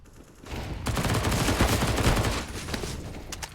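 Submachine gunfire from an MP9 in a Counter-Strike match, a dense burst of rapid shots that starts abruptly and holds loud for about two seconds before easing into scattered, quieter pops.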